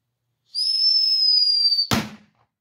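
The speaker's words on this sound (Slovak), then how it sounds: "A posledná petarda, čo tu máme, je Skull." Skull firecracker with light effects lit outdoors: a steady high whistle for over a second, then one sharp bang that trails off quickly.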